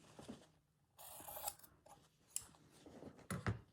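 Scissors trim fabric strips for a shabby chic Japanese rice bag, with several quiet, close snips and rustles of cloth between short pauses.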